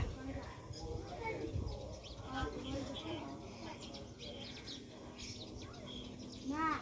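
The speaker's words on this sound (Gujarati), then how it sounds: "તો તમે વિડીયોમાં જોઈ શકો છો કે મારા આંગણમાં કેટલી બધી ચકલીઓ છે." Sparrows chirp in a home courtyard near a neem tree, with brief scattered tweets over a murmuring voice and low background noise.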